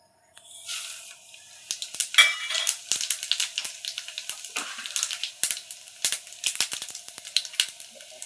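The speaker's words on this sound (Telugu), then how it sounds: "పోపు దినుసులు వేసుకుందాం అండ్ జీలకర్ర కూడా వేసుకుందాం." Cumin seeds and tempering spices crackle and sizzle in hot oil in a kadai for gongura pachadi: a steady close hiss broken by frequent sharp pops and spits, fairly loud, with no talking.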